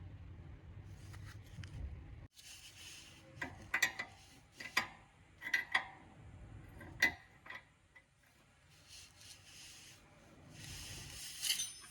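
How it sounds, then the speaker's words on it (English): A large spanner tightens a steering tie rod on a 1996–2005 Mitsubishi Magna, producing a series of faint, close metallic clicks and ratcheting ticks spaced irregularly over quiet background rubbing. "Now I'll secure that tie rod with the bigger spanner"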